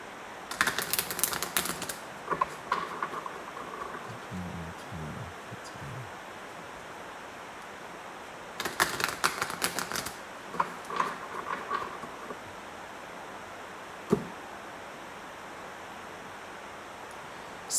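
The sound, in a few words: shuffling thick cardstock oracle cards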